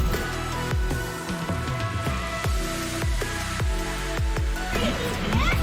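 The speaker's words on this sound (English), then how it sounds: "it's like raining pretty good" Rain falls steadily on a hard surface outdoors at the beach, with sharp drips and taps repeating over a dense wash of noise.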